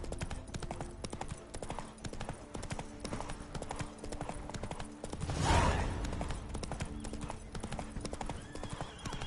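Roach, the horse in The Witcher 3, gallops with a steady, rapid run of clip-clop hoofbeats, and a louder whinny bursts out midway before the hooves carry on at an even pace.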